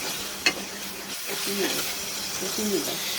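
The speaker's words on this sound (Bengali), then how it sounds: "প্রথমে তেলে জিরা কাঁচামরিচ তেজপাতা পেঁয়াজ টমেটো সব একসাথে দিয়ে ভেজে নিলাম" Cumin, green chillies, bay leaf, onion and tomato frying together in oil for a chicken curry, giving a steady close sizzle with a sharp clink near the start and scraping stirs.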